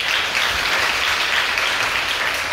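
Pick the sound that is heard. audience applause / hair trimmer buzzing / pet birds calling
audience applause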